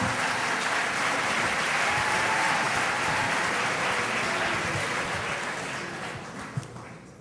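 An audience at a public debate on the Israel lobby applauds in a steady, dense burst of clapping from many hands, holding strong before gradually thinning toward the end.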